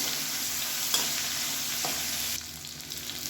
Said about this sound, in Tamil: பூண்டு வெங்காயமும் நல்லா ப்ரௌன் கலரில் வதங்கணும்